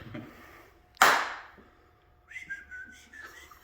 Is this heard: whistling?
yes